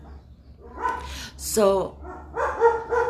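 A dog barks and yips a few times close by while a person talks over it, the short barks interleaved with speech.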